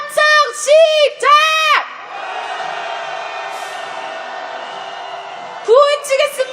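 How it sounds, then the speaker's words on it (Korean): A protest crowd at a candlelight rally lets out long sustained shouts of anger, loud and massed, in rising cries at the start and again at the end, with a lower murmuring roar in between. "다시 한번 분노의 함성 질러보겠습니다."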